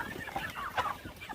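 Hungry chickens on a windy farm cluck and squawk continuously, several birds close by calling over one another in overlapping bursts with no talking.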